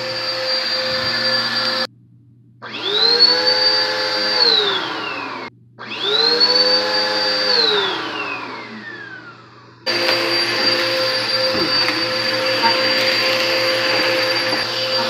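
A loud vacuum cleaner whines close by, repeatedly switching off and spinning back up with falling pitch, then runs steadily at the end.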